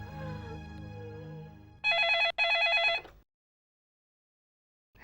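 A telephone bell rings in a domestic TV-drama scene, two loud close bursts after a murmur of background sound, followed by silence and the start of another ring.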